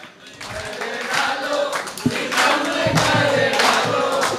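Audience clapping and cheering at a Hindi kavi sammelan poetry recital, a dense sustained applause from a large crowd that swells toward the end, with voices mixed in.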